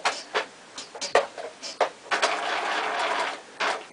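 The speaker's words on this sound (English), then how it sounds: "we're going to back stitch" A sewing machine back-stitches a fabric seam with a short stitch length, giving close, short mechanical bursts that settle into a steadier whirring run before a final brief burst.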